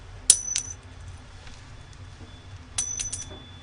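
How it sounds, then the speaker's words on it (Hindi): Impure coin dropped onto the floor, two separate ringing clinks about two and a half seconds apart, each a sharp bright strike followed by a short metallic bounce and fading ring, close and alone over a quiet background. "अब उसी जगह मैं इम्प्योर सिक्के को जब ज़मीन पे पटकूंगा तो इसके साउंड को आप बिल्कुल क्लियर सुन पाएंगे"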